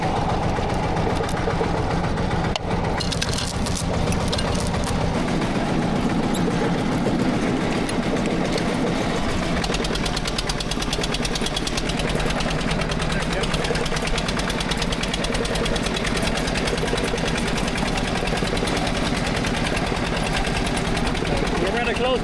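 A Porsche Junior 108 tractor's engine idles unevenly outdoors in snow, a steady low chugging rumble that stays loud and close throughout with a slight shift in pitch partway through.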